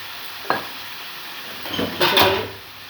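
Spice masala sizzles quietly in a pan for a mushroom curry, with a spoon scraping and clattering against the metal in two brief bursts near the middle and end.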